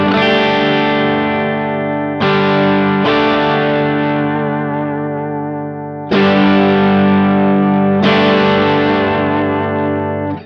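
An electric guitar plays through a Kemper amp with the direct mix turned up, giving a heavily distorted, chorused tone. A few loud, sustained chords strum and ring out, one after another, with no voices.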